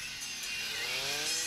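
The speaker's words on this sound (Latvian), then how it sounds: "Kokus var zāģēt, izmantojot rāvienu." Chainsaw cutting young trees while thinning young forest stands, a loud, steady engine whine held close throughout with a slight rise in pitch near the end, no voices.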